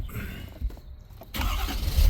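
A Ford Powerstroke diesel truck engine cranks briefly, then catches and fires into a loud, rumbling idle close by.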